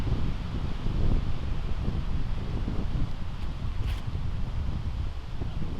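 A right-to-left headwind on a golf course buffets the microphone in a loud, steady rumbling roar, with a brief faint word near the start.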